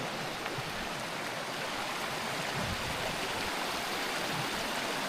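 A stream flows at Frank Gross Campground, giving a steady, unbroken rush of water that stays even and close throughout, with no voices over it.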